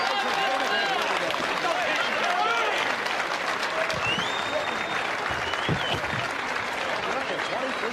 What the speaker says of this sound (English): the crowd is going to show their approval of this one